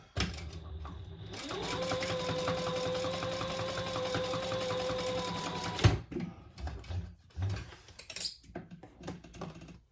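Sewing machine running steadily for about six seconds, stitching a seam on a fabric bowl koozie with a shortened stitch length, then stopping, followed by soft handling and fabric rustles.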